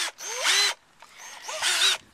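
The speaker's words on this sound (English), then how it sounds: "just going to make sure this drill's the right way" A power drill whirs up twice in short bursts, screwing through a bottle lid, its pitch sliding up as the motor spins, close and fairly loud with a pause between.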